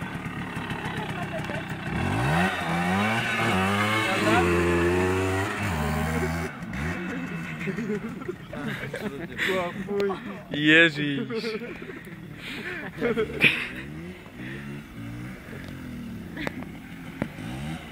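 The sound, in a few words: motorcycle engine idling and revving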